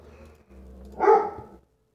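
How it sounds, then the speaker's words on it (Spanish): A single dog bark rises out of low background murmur and fades quickly, close and fairly loud, with nothing else following. "¡Que cállate, perro! Que comienza a ladrar."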